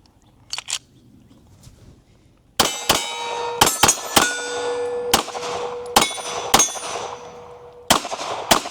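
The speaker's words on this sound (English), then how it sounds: "We about to shoot some steel, have some fun" Pistol shots from a Staccato HD 4.5 ring off steel targets, a series of sharp cracks each followed by a bright metallic clang, uneven in rhythm, with a faint early pair of clicks before the string begins.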